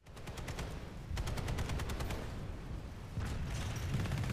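Rapid automatic fire from the T7 Mini-Chaingun, a Terran Republic weapon in PlanetSide 2, in long sustained bursts of dense, loud rattling with brief pauses between strings of shots and no talk.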